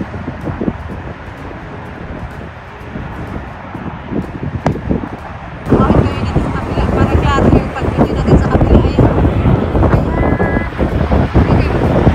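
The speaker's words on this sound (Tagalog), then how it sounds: "Tapos mahangin." Strong gusty wind buffets the microphone in a steady roar that grows louder partway through, with faint voices underneath, at an outdoor plane-spotting spot near an airport.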